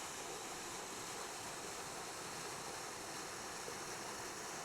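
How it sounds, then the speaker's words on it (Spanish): Spain's highest-flow river rushes past as a steady, even wash of water noise that holds without a break from start to finish, with no voices or other sounds. "El río, pues, sigue su curso."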